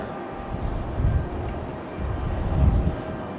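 Airliner at Raleigh-Durham International Airport, a low distant engine rumble swelling and fading in soft waves over a few seconds, heard alone.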